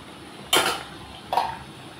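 A metal lid set onto a cooking pot of spiced prawn curry gives two brief, close clanks about a second apart, each with a bright metallic ring, with no talking.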